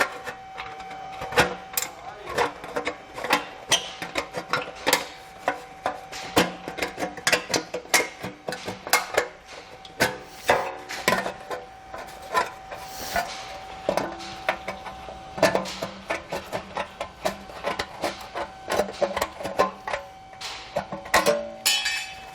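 Tin snips cutting through heat shield material on a 2021 Subaru, with many quick crisp snipping clicks in an uneven rhythm, close and fairly loud, continuing steadily throughout.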